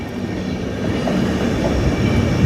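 A passenger train runs along the track near Sirhind, Punjab, on the Ambala–Ludhiana–Amritsar route, giving a steady, close rumble of wheels and carriages that swells slightly as it passes, with no voices.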